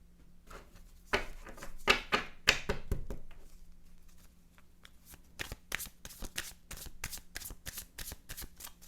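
Tarot cards being shuffled and drawn at close range: a dense riffling burst early on, then a steady run of crisp, separate card snaps and slides, with no talking.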